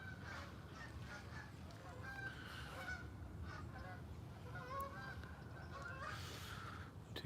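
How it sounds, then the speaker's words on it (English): Flocks of big geese honk repeatedly as they fly over a fishing spot, their calls overlapping in a steady outdoor chorus over constant low background rumble. "Because the geese fly over."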